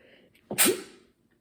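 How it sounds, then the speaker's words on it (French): A single close, sharp human sneeze bursts out of near silence, with a short intake before it and a quick fade after. "je vais éternuer, je crois"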